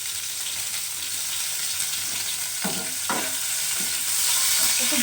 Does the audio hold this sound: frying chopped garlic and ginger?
yes